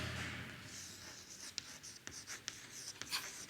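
Pen on paper while calculus conditions are written out by hand: soft continuous scratching broken by several crisp ticks and strokes, close and quiet, without talk.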